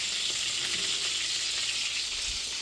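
Water from a pot of boiled potatoes pours off through a draining lid in a farm kitchen, a steady, close rushing hiss that runs unbroken throughout with no talking.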